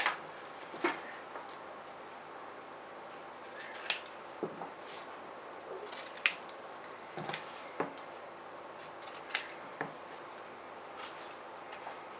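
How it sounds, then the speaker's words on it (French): Scissors cut fabric for a convertible backpack in a series of crisp, close snips spaced irregularly a second or two apart over a quiet room background, with no talk. "Et maintenant, je vais les découper."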